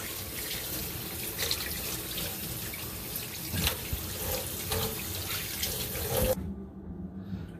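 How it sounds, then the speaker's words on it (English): Tap water runs steadily into a sink during handwashing, with splashing and rubbing hands under the flow, heard close and fairly loud, then cut off abruptly near the end, leaving near silence. "Now let's put a little bit of soap, turn on the water,"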